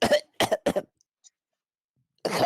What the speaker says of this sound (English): I'll start coughing.